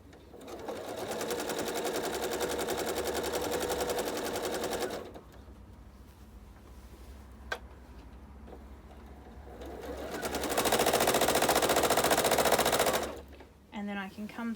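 A sewing machine stitches in the ditch along quilt block seams, running in two steady, loud bursts of rapid even stitching separated by a quieter pause with a small click.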